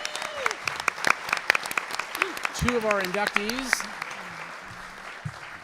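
An audience applauds two inductees at a Title IX event in San Antonio, scattered claps rising into steady clapping while a speaker talks over it through a microphone.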